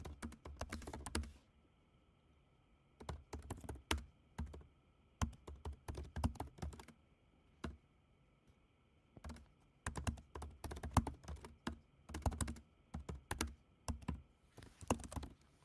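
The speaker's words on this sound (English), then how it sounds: "I'm reading it off something while I'm typing it," Typing on a computer keyboard comes in irregular bursts of close, clicky keystrokes separated by short pauses, with faint background hum and no talking.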